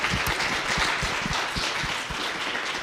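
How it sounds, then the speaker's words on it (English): An evening small-business panel audience claps steadily, a thick, close wash of many hands with individual claps punching through, continuous from start to finish. "Can we have a round of applause?"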